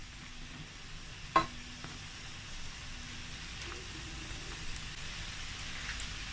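Faint, steady crackle of a doughnut frying in hot oil, with a soft clatter of a utensil early on and a low hum underneath.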